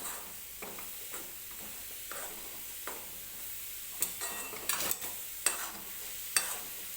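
Grated coconut and sugar being stirred in a pan on low heat, with quiet, evenly spaced scraping strokes over a soft sizzle that grow slightly louder toward the end, with no talking.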